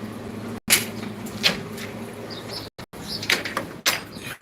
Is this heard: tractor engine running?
no